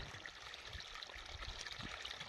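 Water from pump motors flows along a farm irrigation channel in a village, a steady low trickling and gurgling wash that stays faint and continuous with no talk over it.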